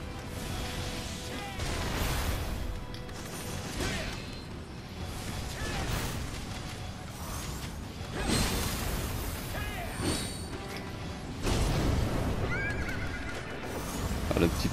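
A horse neighs and whinnies in the samurai action game Nioh, with several rising whinnies and hoof clip-clops amid combat clashes and whooshes, at moderate loudness.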